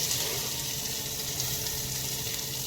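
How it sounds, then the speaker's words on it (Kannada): Curry leaves and green chilli hit hot tempering oil already holding garlic, for curd rice, giving a faint, even, continuous sizzle with no voices. "ಈಗ ಕರಿಬೇವು ಮತ್ತು ಮೆಣಸಿನ್ಕಾಯಿನ ಮಿಕ್ಸ್ ಮಾಡಿ ಹಾಕ್ತಾರೆ"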